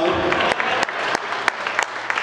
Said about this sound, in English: So give me another round of applause.